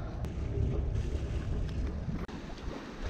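A Hallberg-Rassy 54 sailboat moving slowly in very light wind between Anegada and Virgin Gorda, a steady wash of water and soft wind rush around the hull, continuous and moderately loud, with no talk.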